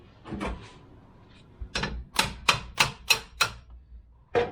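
A hammer taps repeatedly on the prop shaft of a 1973 Range Rover, sounding as a fast run of sharp, close metallic knocks, about seven in a row, after a few softer thuds, and one more strike at the end.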